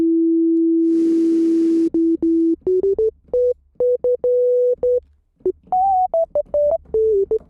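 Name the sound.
soft sine-wave synth lead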